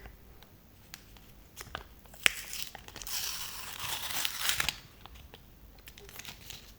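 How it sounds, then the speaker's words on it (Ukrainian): Close, crisp paper crinkling and tearing as a packet is opened, with a louder rustling burst in the middle amid small taps. "І відкриваємо наш пакетик."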